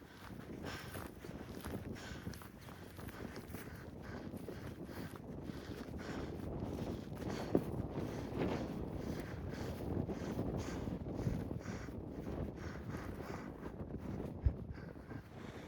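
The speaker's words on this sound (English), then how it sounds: "it's windy" Strong gusty wind buffets the microphone high on a Colorado mountain trail, a continuous low roar with irregular surges and a couple of sharp thumps, with no voices.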